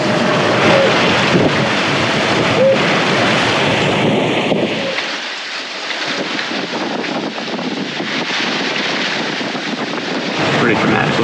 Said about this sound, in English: We have like 40 miles left to go, so just kind of sailing slowly.